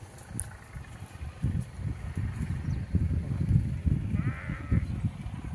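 Sheep bleating outdoors, a few calls rising over steady wind rumble, moderately distant and fairly faint, with no talking.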